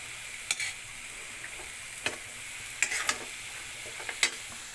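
String beans being fried for ginisang sitaw, a steady close sizzle with occasional scraping and clinking stirring strokes against the pan, no talking.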